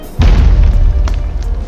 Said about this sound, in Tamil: எனக்கு தெரிஞ்சு இருக்கிற எல்லாத்துலேயும் வண்டினா வெடியும்